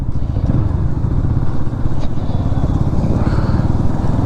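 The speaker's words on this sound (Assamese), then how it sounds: "বাইকখন চলাই আছোঁ" A motorcycle being ridden on a local road, its engine running steadily and loud throughout, close by with a constant rough drone and no clear speech over it.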